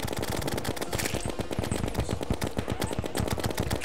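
Rapid automatic gunfire from the video game Terraria, a dense, continuous stream of loud, closely spaced shots running steadily throughout with no talking.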